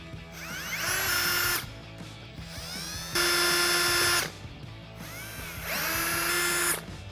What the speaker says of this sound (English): So find the middle, put the hole where you want it, and drill through.